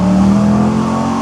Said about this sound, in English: roll through some more gears for you guys so you can hear that glorious LS3 sound again